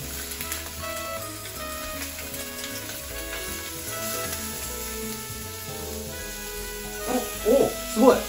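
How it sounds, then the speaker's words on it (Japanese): Food sizzles and fries in a pan over a strong flame, a steady hissing bed under background music, with a few louder spitting bursts toward the end. "料理といえばこのジューって音ですよ。"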